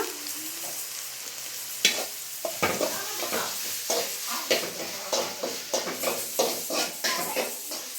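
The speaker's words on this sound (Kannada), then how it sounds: "ಇದಿಷ್ಟನ್ನು ಚೆನ್ನಾಗಿ ಮಿಕ್ಸ್ ಮಾಡ್ಕೊಂಬಿಡೋಣ." A soy sauce mixture for mushroom pepper dry manchurian is stirred in a hot pan, a spoon scraping in steady repeated strokes over a continuous close sizzle.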